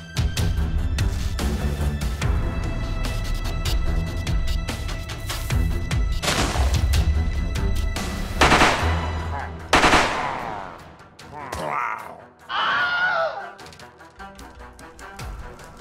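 Rapid machine-gun fire and bursts of gunshots during an attack in the Minecraft video game, loud and dense, with a few heavier booms near the end.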